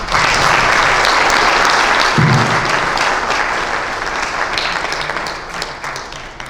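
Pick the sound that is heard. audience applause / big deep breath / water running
audience applause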